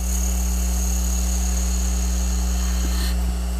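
Skew chisel on a wood lathe with the bevel pushed too hard against spinning wood, giving a steady loud whining hum with strong tonal lines, constant throughout and close.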